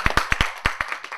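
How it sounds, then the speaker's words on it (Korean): A lecture audience claps for a visiting contemporary art lecturer at a provincial art museum talk, with a brief burst of sharp, uneven handclaps that thin out and fade within about a second. "직접 박수를 한번 맞아주시기 바랍니다"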